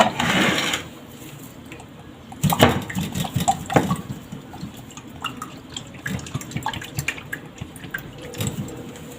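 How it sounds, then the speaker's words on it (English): Coconut water is drained from a coconut in uneven trickles and drips, with a few louder splashes and knocks early on and a light irregular patter that continues to the end. "So this is how I usually remove the water."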